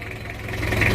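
Motorcycle engine idling with its exhaust note, a steady low rumble with faint rhythmic pulsing that swells slightly louder toward the end, close by with no talk.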